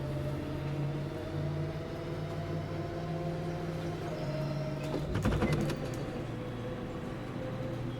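A bus engine in the driving game Bus World drones steadily at high revs against the RPM limiter, its pitch dropping briefly partway through, with a short clatter near the middle.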